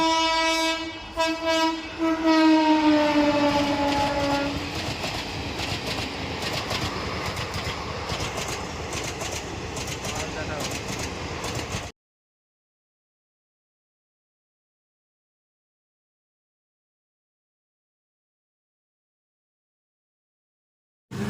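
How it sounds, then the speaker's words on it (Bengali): A train arrives: loud, sustained horn blasts in the opening seconds, then the steady heavy rumble of rolling rail cars close by, which cuts abruptly to silence midway. "এবার ট্রেন আসছে।"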